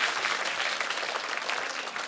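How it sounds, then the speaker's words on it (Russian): Studio audience at the comedy show Рассмеши Комика breaks into dense, steady applause, loud and close, filling the full two seconds with no talk over it. "Давайте попробуем под ваши аплодисменты."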